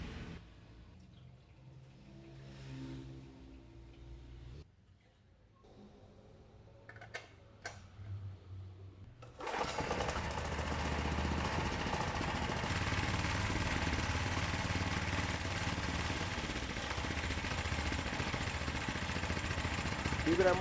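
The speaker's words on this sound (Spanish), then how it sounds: "Vibra mucho porque el motor está frío." Quiet clicks and shuffling give way to a homemade go-kart engine starting up cold. It settles into a loud, rough, vibrating idle that runs steadily to the end.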